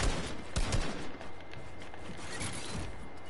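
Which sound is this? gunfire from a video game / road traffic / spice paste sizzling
gunfire from a video game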